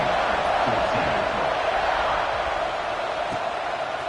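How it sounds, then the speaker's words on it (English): Football stadium crowd roaring steadily after a long scoring drive, a dense, continuous wash of cheering and shouting that holds at an even level throughout without pause. "this crowd is feeling themselves after that last drive"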